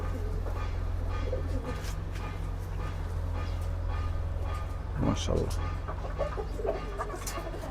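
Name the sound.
pigeon cooing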